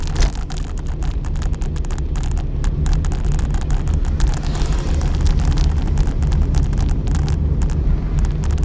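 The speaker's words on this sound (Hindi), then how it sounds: "तो कैसे आवाज़ आ रही है टायरों की भी।" Steady broadband road roar from tyres of vehicles passing close on a road, loud and continuous with a low rumble throughout, no voices.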